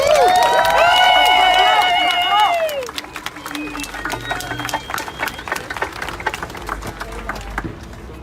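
Crowd at an outdoor gathering in Kenosha, Wisconsin applauding an elected official: a loud wash of clapping and cheering fades after a couple of seconds into scattered claps and voices.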